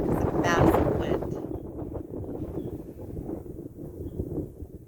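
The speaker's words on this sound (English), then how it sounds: "here comes a big wind. It's a massive wind." Strong wind blows steadily outdoors, a continuous rushing roar buffeting the microphone with a louder gust near the start.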